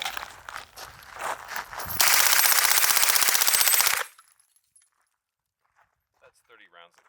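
A rifle empties a 30-round magazine in one rapid, loud burst of evenly spaced shots lasting about two seconds, then abrupt quiet broken only by faint handling noises.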